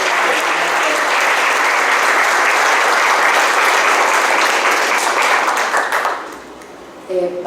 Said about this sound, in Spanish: les pediría un aplauso para todas las personas que nos acompañan